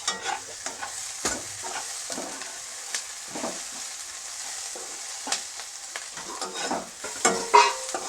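Onions fry in a pan while being stirred, a steady soft sizzle broken by repeated scraping taps of a spoon, close and fairly quiet with no talking.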